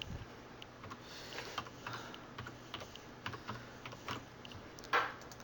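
Quiet typing on a computer keyboard, with a light irregular patter of key clicks and one slightly louder tap near the end, heard close against a faint background hum.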